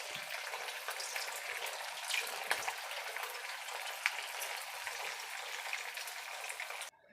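Potato and semolina fritters (patodi) fry in hot oil with a steady, close crackling sizzle, bubbling evenly throughout before cutting off at the end.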